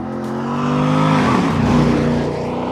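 A 2003 Chevrolet Corvette with a 350-horsepower V8 sweeps past in a single close flyby, its engine note swelling to a loud roar and dropping in pitch as it passes.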